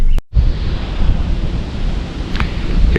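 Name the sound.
wind at a lakeside campsite at sunset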